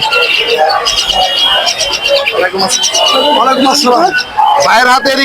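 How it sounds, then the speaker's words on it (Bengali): Many spotted dove chicks chirp and peep continuously and fairly loudly at a bird market, a busy chorus of high calls with some lower coos mixed in. "আমাদের দেশীয় ঘুঘু দেশি ঘুঘু দেশি ঘুঘুর বাচ্চা এটা"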